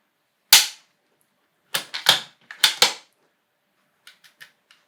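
Metal clicks from the three-position safety of an ATA Arms Turqua bolt-action rifle, one sharp snap followed by a run of four crisp clacks and a few faint ticks, close and isolated in silence.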